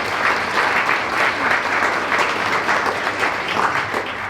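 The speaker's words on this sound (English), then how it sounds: "Can we give them a round of applause for that" An audience at a business breakfast applauds an initiative with sustained, even clapping from many hands, loud and steady throughout with slight swells.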